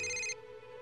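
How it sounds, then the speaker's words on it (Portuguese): Cell phone ringing indoors, a bright electronic ringtone that cuts off abruptly after a fraction of a second, leaving a low steady hum. "De quem é esse celular?"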